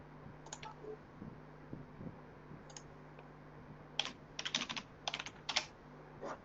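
Keys on a computer keyboard clatter in faint, scattered taps that cluster into quicker bursts of typing toward the end, with no voices.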